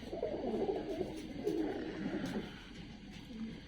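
Several caged pigeons coo softly and repeatedly nearby, their low, throaty calls overlapping in a gentle rolling rhythm with no talking.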